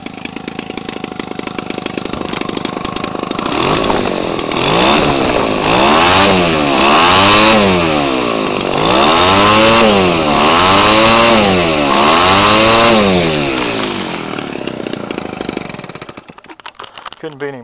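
A Homelite 25cc two-stroke engine, converted for radio-control model airplanes and fitted with a rebuilt 15mm WT carburetor, idles with a buzzing rattle, then revs up and down repeatedly in loud high-pitched surges before dropping back to idle.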